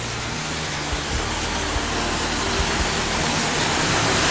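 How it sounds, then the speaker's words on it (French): A waterfall at a pirate-themed mini-golf course in Melbourne gives a steady, even rush of falling water, close and constant with no breaks. "On passe sous la cascade."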